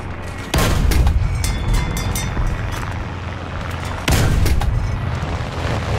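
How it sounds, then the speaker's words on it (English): Loud booming gunfire and shell explosions in the War Thunder game, with two heavy blasts several seconds apart over continuous rumbling battle noise and scattered smaller shots. "shots are going everywhere."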